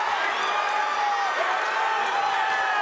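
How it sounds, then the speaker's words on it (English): Loud, dense arena crowd at a fighting championship bout, cheering and roaring steadily, with voices rising over a continuous wash of noise. "Crowd coming alive"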